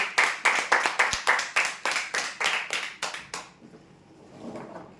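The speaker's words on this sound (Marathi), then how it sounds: "जोरदार टाळ्या होत्या" A group claps rhythmically for a prize draw winner of a bed, roughly a dozen sharp, evenly spaced claps that die away after about three seconds into quiet room noise.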